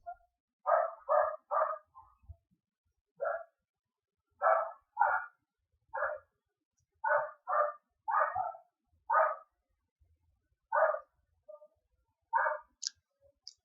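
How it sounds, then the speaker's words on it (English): Dogs bark from somewhere behind the room in a long irregular series of short, muffled woofs, often grouped in twos and threes, with brief pauses between bursts. "If you can hear my dogs in the background,"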